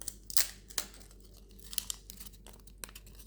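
A paper surprise packet is torn open, giving a few short, sharp rips and crinkles separated by quiet pauses, close up and with no talk.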